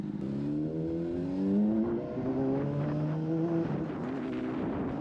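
Honda CBR 600 motorcycle engine downshifting while slowing down, with wavering engine tones stepping up and down through the gears, moderately loud and steady throughout, no talk.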